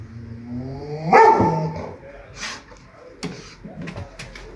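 A dog barks loudly several times, close by, in short separate bursts with pauses between, and a voice is heard in the background.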